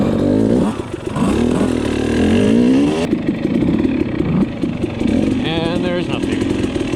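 A dirt bike engine revs loudly and close by, rising and falling in pitch across the clip, with a voice speaking over parts of it.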